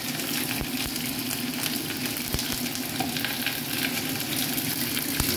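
Onions frying in a pan give a steady, dense sizzle throughout, close and constant, with a few faint clicks and taps rising over the hiss.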